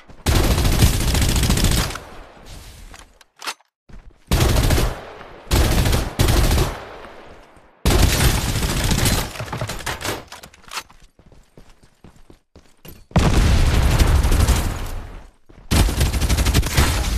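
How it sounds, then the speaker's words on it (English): Gunfire from the battle royale video game Farlight 84, loud bursts of shots in several clustered volleys separated by brief quiet gaps, with no speech. "Open fire!"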